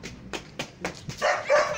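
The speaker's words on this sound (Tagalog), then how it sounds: "Ching, may aso dyan!" A dog gives several short, sharp barks in a quick series, followed by higher whiny yelps, fairly close.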